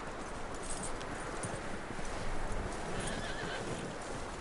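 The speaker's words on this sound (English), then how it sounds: "That looks like a decent horse." A horse in the video game Red Dead Redemption 2 whinnies and snorts over a steady game soundscape, with hooves clopping along throughout, loud and close.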